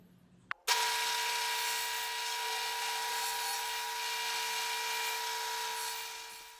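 A table saw blade cuts a slot into a wooden plank taped with masking tape on the back, making repeated passes without a dado blade; the cut starts abruptly after a brief click and holds as a loud, steady whine throughout.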